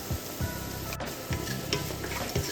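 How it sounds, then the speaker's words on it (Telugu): Onions sizzle in a pan with a light sprinkle of salt, a steady soft frying hiss broken by periodic scraping stirs. "ఆనియన్ తొందరగా వేయడానికి మనం కొంచెం సాల్ట్ అయితే వేసుకుందాం, లైట్గా కొంచెం."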